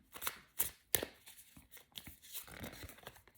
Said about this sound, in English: I just want to shuffle one more time